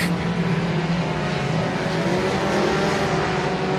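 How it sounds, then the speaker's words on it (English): Race cars circle the Boothill Speedway track in the late laps of a regular race program, their engines a continuous loud droning roar close by, with no talk over it. "Cook still looking strong as the top 2 cars pull away"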